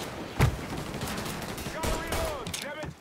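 Gunfire in the crime game Mafia III, a sharp close shot followed by scattered distant pops and bursts amid shouting voices.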